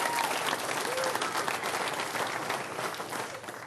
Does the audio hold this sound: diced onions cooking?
no